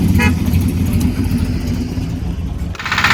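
A car pulls away from a vegetable garden, its engine rumbling up close and steady, with a brighter roar or whoosh rising at the end.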